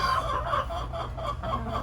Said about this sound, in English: Today we are outside with the chickens